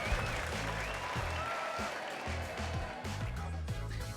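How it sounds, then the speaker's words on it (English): Applause from a game-show crowd in the Sock Dating Simulator video game, a steady dense clapping wash lasting throughout, moderately loud, with music-like tones beneath and a voice speaking faintly over it. "Give him a round of applause, folks."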